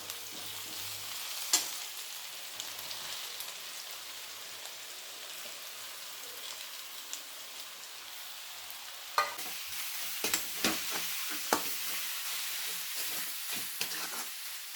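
Onion and bharangi wild greens frying in a pan, a soft continuous sizzle with occasional scraping stirs and louder clattering spoon strokes clustered toward the end.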